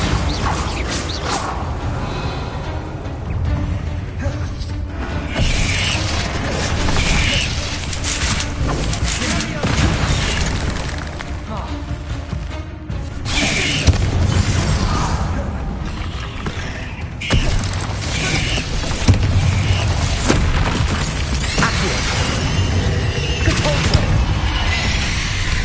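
Spell-blast explosions and crashing debris from the Bombarda spell in Hogwarts Legacy, loud and dense, repeated through a chaotic stretch over steady game sound and rumble, with occasional voice.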